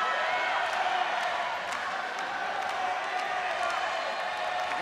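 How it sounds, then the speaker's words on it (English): A heavily partisan arena crowd at a ONE Championship MMA event roars and chants for fighter Angela Lee, a steady dense wall of voices throughout, with occasional sharper shouts and claps poking out. "You can hear the chants going up for Angela Lee"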